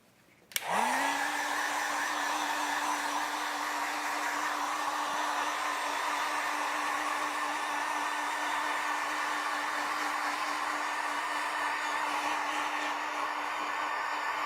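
Hair dryer switched on and blowing steadily to dry craft paint on a wooden letter, a loud, constant whirring hum close by for the whole stretch, without talk.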